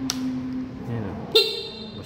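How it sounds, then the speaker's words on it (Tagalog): Two short horn beeps from a Honda Beat V3 scooter, one at the start and a brighter one near the end, close by with a quiet hum between. "Busina, left and right."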